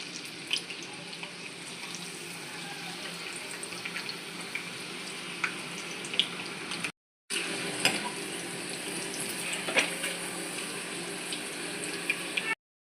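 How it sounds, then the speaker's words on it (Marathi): Potato peels frying crisp in hot oil, a continuous bubbling hiss with faint pops, broken by two brief silent gaps. "आपलं तेल झालेलं आहे गरम, आणि आपण हे जे शिलके काढले होते आपण त्याला पण तळूया क्रिस्पी"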